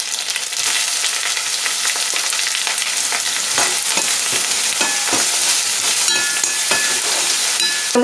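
Onions sizzle steadily in hot oil with ginger-garlic paste, green chilies and curry leaves, a dense continuous frying hiss broken by irregular scraping stirs of a spoon against the pan, close and loud with no talk.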